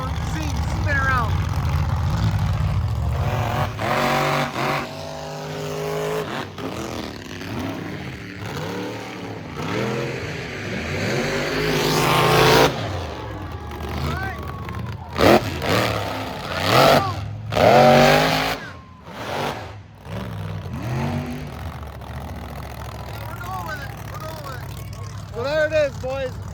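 Trucks race through mud at the Michigan Mud Jam, engines revving and roaring in loud surges and pass-bys at middle distance, with a commentator talking over the action.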